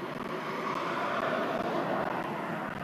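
A DJI Phantom 4 Pro drone hovers and flies in the wind with a steady, loud, even whirring buzz from its propellers, unbroken and without voices.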